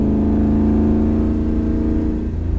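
A 1967 Ford Fairlane's engine pulls uphill, a loud, steady mid-range drone heard from inside the car that eases slightly near the end.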